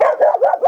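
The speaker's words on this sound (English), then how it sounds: "She likes to bark." A dog barks in a short, loud, close burst of several quick yips and barks in rapid succession.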